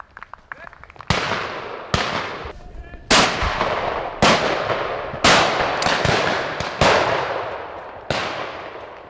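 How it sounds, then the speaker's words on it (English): Shotgun blasts on a driven pheasant shoot in Denmark, about nine sharp, loud reports at irregular intervals, each ringing out and decaying across open woodland, with some talk in between. "The gunshots filling the air indicate it's not just me who's in luck."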